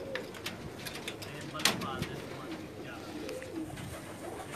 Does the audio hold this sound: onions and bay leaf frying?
no